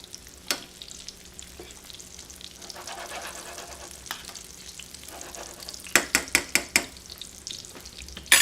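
Thin pounded chicken frying in hot oil gives a soft, steady sizzle, with scattered clinks and a quick run of sharp taps from utensils near the pan.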